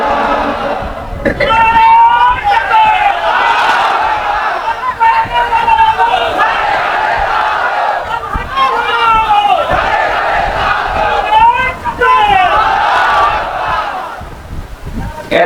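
A large crowd at an outdoor Islamic sermon gathering (waz mahfil) in Raipur, Bagharpara, Jessore, roars the takbir in loud, repeated massed chants, swelling in waves through the whole stretch with no pause.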